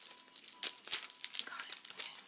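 A coconut bar wrapper crinkles and tears in short, close crackling bursts as it is cut open with scissors, with little else around it.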